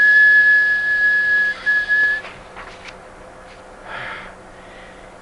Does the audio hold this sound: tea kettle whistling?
yes